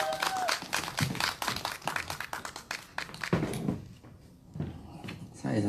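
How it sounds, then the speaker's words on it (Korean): An audience claps at an outdoor candlelight rally in Seongju, a dense crackle of applause running under a host's amplified voice and fading toward the end. "2시간 버스 타고 오신 우리 황성재님께 다시 한 번 더 큰 박수 부탁드리겠습니다."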